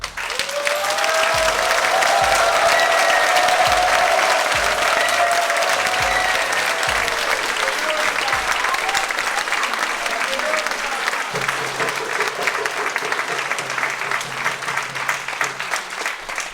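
A church congregation bursts into loud, sustained applause mixed with cheering voices, dense and continuous throughout, with rhythmic clapping and a hum of crowd noise.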